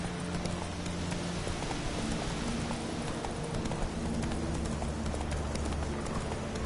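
Roach, the horse from the video game Witcher 3, gallops with a fast, steady run of rhythmic hoofbeats under a dense, continuous ambient wash.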